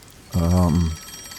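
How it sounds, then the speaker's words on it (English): A telephone rings in the video game Master Detective Archives: Rain Code, a single loud, buzzy electronic ring lasting just over half a second, close and clear. "Oh, the phone."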